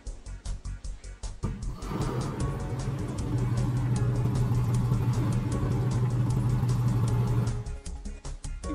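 A car engine hums steadily at close range with a low rumbling drone, swelling slightly as it runs, with brief clicks before and after.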